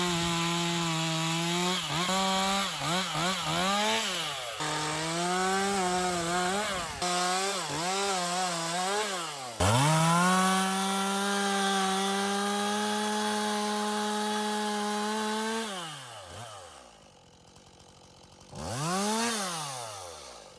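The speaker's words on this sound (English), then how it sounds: "there was a time that I was afraid of the chainsaw" A chainsaw cutting wood close by, its engine rising and falling in pitch as it revs, bogs into the cut and eases off, running loud for most of the time before a short lull and a final rev.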